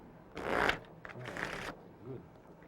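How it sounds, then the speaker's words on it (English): A deck of playing cards shuffled gambler-style during a 1994 magic routine: two quick riffle bursts, the first louder, followed by a softer rustle and faint murmuring in the background. "Here's how gamblers shuffle."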